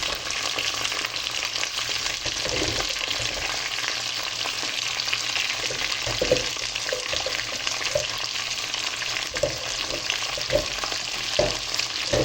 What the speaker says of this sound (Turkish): Şimdi fasulyelerimizi yağımızın içine ekliyoruz